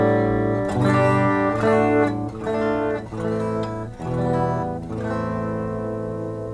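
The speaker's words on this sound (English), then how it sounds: "Just a clean guitar." A clean Jackson Randy Rhoads electric guitar recorded into Logic, undistorted. It plays a short run of picked notes and chords with ringing sustain, close and clear, and no one talks over it.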